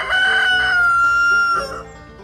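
A rooster crows loudly and close by in a long, drawn-out call, with hens from a flock of black chickens clucking around it on a farm in the morning.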